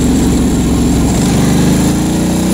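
Ducati Hypermotard 1100 motorcycle engine running steadily at a low, throbbing idle, loud and close, with no pauses for the whole stretch.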